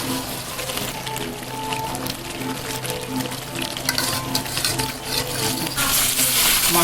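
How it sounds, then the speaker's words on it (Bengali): Mutton sautés in a pot for kosha, with a steady loud sizzle of frying oil and occasional scraping stirs, continuous and close, no voices. "আমি মাংসটা কষাচ্ছি।"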